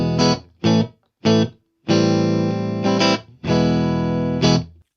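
Electric guitar run through stock Ableton effect plugins, playing three short chopped chords followed by two long sustained, rich harmonic chords with distorted, effected tone, loud and alone.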